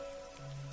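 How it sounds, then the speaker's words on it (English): Steady rainfall in the game Master Detective Archives: Raincode, a continuous wash of drops on surfaces across a dark, damp city, with a low sustained tone entering partway through. "A city where it's always raining."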